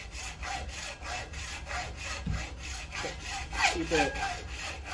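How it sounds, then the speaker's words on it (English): Hacksaw cutting slowly through deer antler clamped in a vise: steady back-and-forth rasping strokes, close and continuous for the whole stretch, with no talk. "Make sure I have nothing in the direction of my hacksaw. And just cut slow."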